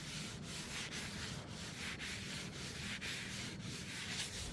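A clean rag wipes steadily across the freshly sanded table of an older, once rusted Ridgid planer, a continuous close rubbing hiss with faint periodic strokes and no voices.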